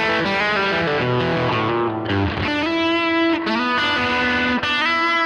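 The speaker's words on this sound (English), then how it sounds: "you can get a Fender style amp." An electric guitar played through a Fender-style amp model in a digital modeling unit rings out sustained, slightly overdriven chords that hold steady and loud with brief changes between them.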